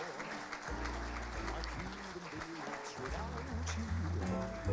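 An audience at a season-closing awards ceremony applauds a youth choir, a broad wash of clapping running throughout while a voice speaks over it and sustained musical tones sound underneath.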